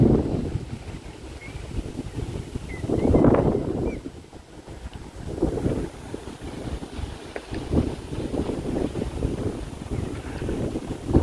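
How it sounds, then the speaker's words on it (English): Steady wind buffets the microphone on an open rocky coastline, roaring in gusts with a low rumble and a faint wash of water beneath, with no voices. "Quite windy today."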